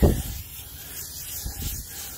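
A steady aerosol hiss sprays for a couple of seconds into car wheel wells after a short thump, close and fairly even in loudness.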